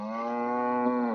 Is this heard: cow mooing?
yes